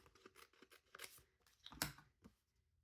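Scissors snipping through paper during Christmas tree themed journal crafting, a series of quiet close cuts with one sharper louder snip near the end.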